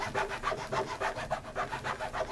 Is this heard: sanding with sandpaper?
yes